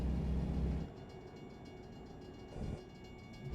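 A train in American Truck Simulator rumbles past a crossing, starting heavy and loud, then settling into a steady rolling clatter with a brief swell near the end.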